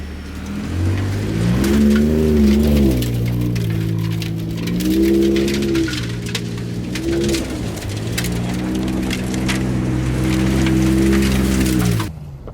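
Deep, rumbling Ford Raptor pickup truck exhaust revving up and down repeatedly, loud and close, sustained for several seconds before cutting off.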